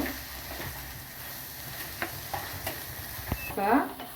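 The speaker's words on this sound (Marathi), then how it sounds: "आपण चांगलं छान हलवून घेऊ।" Carrot halwa with ghee, cashews, almonds and cardamom powder is stirred in a pan, a low sizzle under scattered spoon scrapes and taps, close by, ending in a brief louder clink, with no speech.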